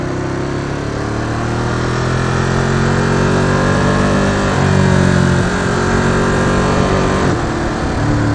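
A motorcycle engine pulling hard under acceleration, loud and close with a steady rising drone and rumble, shifting smoothly through gears without a break.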